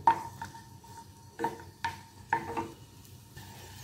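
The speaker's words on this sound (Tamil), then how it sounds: "பெருங்காயத்தை நல்லா வறுத்துக்கலாம்." Two small pieces of asafoetida roasting in a drop of oil in a pan, with a faint low sizzle broken by several sharp clinks and scrapes of a utensil against the vessel.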